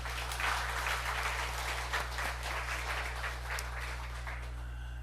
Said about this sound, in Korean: 우리 하나님께 영광의 박수 그리고 우리 수고의 박수를 한번.